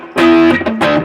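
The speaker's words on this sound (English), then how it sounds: "With the distortion pedal, it sounds like a bunch of rats are like clawing their way through." Guitar played through a distortion gain pedal: three quick, loud, saturated chord stabs with thick buzzing harmonics, each cut short in about a second of playing.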